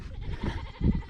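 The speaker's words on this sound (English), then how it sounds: "I think you can probably hear the goats in the background too, acting like they're hungry" Hungry goats on a farm bleat in the background, a couple of low muffled calls, the loudest near the end, under a steady rumble of a Kubota M4 tractor running nearby.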